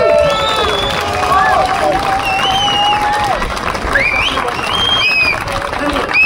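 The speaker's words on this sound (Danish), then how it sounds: "så Rådhuspladsen giver lige dem den allerstørste klapsalve" A large outdoor crowd on Rådhuspladsen at the Copenhagen Pride opening claps, cheers and whistles continuously, loud and dense, with shrill whistles rising above the roar throughout.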